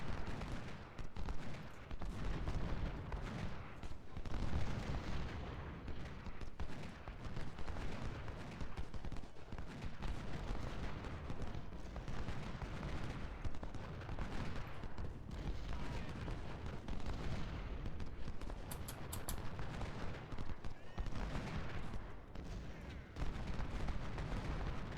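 A Civil War video game battle rumbles with dense, continuous artillery booms and rifle volleys, a heavy, loud wall of gunfire that stays steady for the whole stretch without any clear pause.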